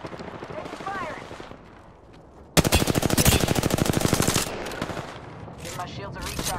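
Automatic gunfire in a shooter video game, a sustained loud burst of rapid rattling shots after a quieter stretch of game sounds, followed by scattered effects and chatter.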